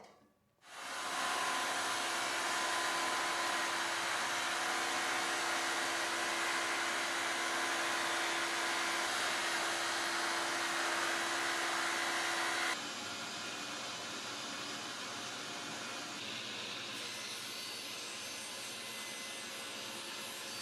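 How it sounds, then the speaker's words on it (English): A table saw fitted with a 1/4-inch dado stack cuts a channel for a floating box bottom, a loud, steady broadband whine that spins up at the start, holds close and alone, then drops to a lower running hum as the cut ends. "I switched over to a 1/4-inch dado stack to cut a channel to receive a floating bottom."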